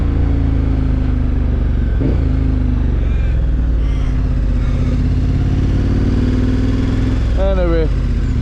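A motorcycle engine drones steadily and loudly, picked up by a GoPro mounted on the rider's helmet, with wind rumble throughout and a voice talking over it.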